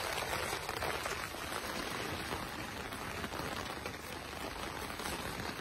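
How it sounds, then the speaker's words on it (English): Steady rain pattering on an umbrella outdoors by a roadside in Jaywick after a long dry spell, a dense continuous hiss of drops close by, with no voices. "Listen to it on the umbrella, listen."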